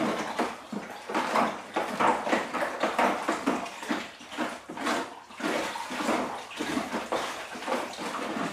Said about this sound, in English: I'm going to get my paddle and give it a proper good old stir.